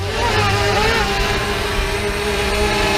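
A DJI Mavic Mini drone flies nearby at night, a steady high-pitched propeller whine that holds constant and loud throughout with no talking.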